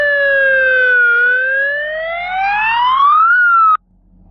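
A wailing police siren in the Roblox game Brookhaven sweeps up and down in pitch, loud and close, then cuts off abruptly near the end, with no talk over it.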